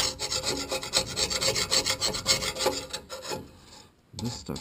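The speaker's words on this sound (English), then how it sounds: "I'm basically just going to scrape it like this. Try and get it nice and clean." Metal scraper rasping ash deposits from inside a Harman PB105 pellet boiler, a close run of quick rhythmic scraping strokes that ease into quieter scuffs near the end.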